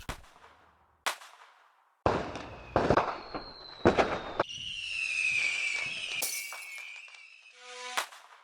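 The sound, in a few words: fireworks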